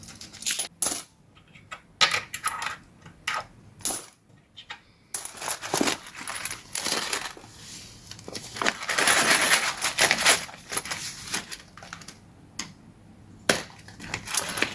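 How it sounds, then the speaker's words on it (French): Coins are dropped and shuffled into a square envelope, making a string of metallic clinks and jingles in bursts with rustling between them, close and fairly loud. "Je vais mettre une enveloppe carrée de la monnaie."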